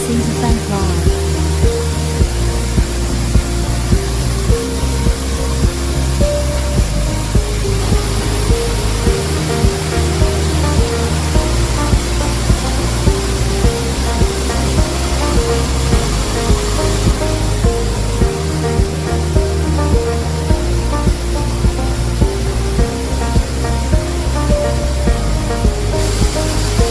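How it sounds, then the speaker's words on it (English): A maize milling machine grinding corn kernels into fine flour in a production line, a loud unbroken roar with a low mechanical hum and steady broadband rushing noise the whole time. "Maize milling machine grinds developed maize kernels into fine flour."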